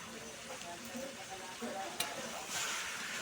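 Jackfruit stirred and fried in a pan gives a soft, steady sizzle with faint scraping and a brief clink, quiet and continuous throughout.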